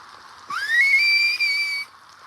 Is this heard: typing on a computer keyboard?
no